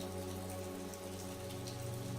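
Steady rain falling on a rainy day in New York, a dense, continuous hiss of drops on surfaces that holds an even loudness throughout, with no voices.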